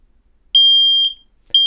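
An X-Sense interconnected smoke alarm, set off by smoke near a 3D printer, sounds loud piercing high-pitched beeps: a long tone, a short one, then another long tone starting, with silence between.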